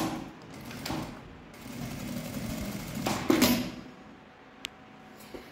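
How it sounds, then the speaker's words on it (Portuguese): A sewing machine stitches a synthetic leather bag with soft, uneven bursts of motor whir and needle clatter. The stitching starts and stops several times, with a sharper clack near the end. "Costurinha com um pé de máquina"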